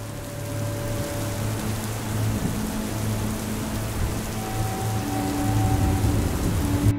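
Heavy rain falls during a typhoon as a constant broadband wash, with low rumbling underneath that swells slightly toward the end.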